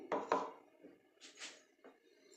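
Nutmeg being crushed fine, a few sharp, close knocks and scraping crunches in quick pairs, then softer grinding taps, alone without talk.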